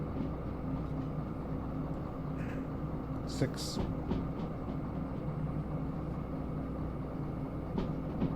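Long freight train rolling downgrade on rails in Derail Valley, a steady low rumble and rattle of wheels with faint clanks, running continuously under a voice.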